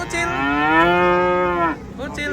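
A cow being unloaded from a truck lets out one long, loud, close moo, followed by a brief second bovine call near the end.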